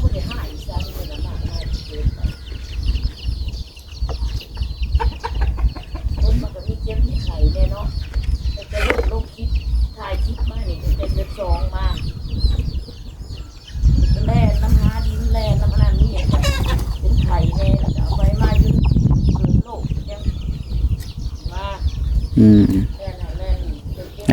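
Farmyard chickens clucking on and off over a long stretch, with a rooster crowing among them and people talking nearby.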